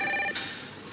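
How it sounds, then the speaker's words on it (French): A telephone rings indoors in a brief, clear electronic burst at close range. It cuts off about a third of the way in, with no voices over it. "C'est le téléphone qui sonne, ça."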